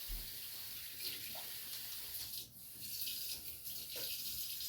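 Warm water runs steadily from a kitchen sink tap while preparing yeast for dinner rolls, a continuous close hiss of flow with no voices over it.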